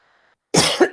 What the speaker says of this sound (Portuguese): eu também estou com um pouco de tosse aqui